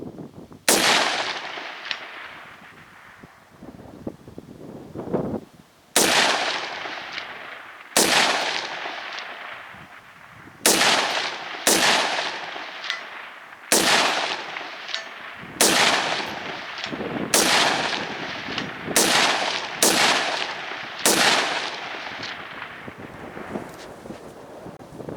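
Springfield Saint AR-15 pistol in 5.56 fired outdoors at steel targets 300 yards away: about a dozen sharp, loud shots at irregular intervals, each with a long rolling echo, over steady wind noise and no talking.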